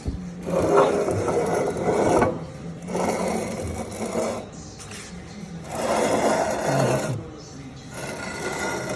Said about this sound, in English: That's the entire plate welded on the bottom side of the A-arm.